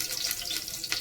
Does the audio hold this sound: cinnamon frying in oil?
yes